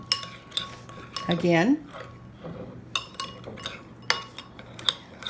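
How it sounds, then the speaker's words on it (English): A spoon stirring and mashing mustard vinaigrette with herbs of Provence in a bowl, making irregular close clinks and scrapes as a voice talks over it. "stirring with the back of your spoon"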